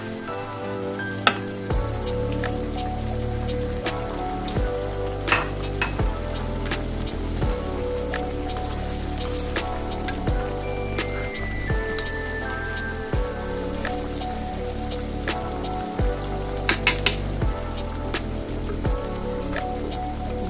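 A snack for an iftar meal deep-frying in plenty of hot oil gives a steady, dense crackling sizzle with scattered sharp pops, continuous and close.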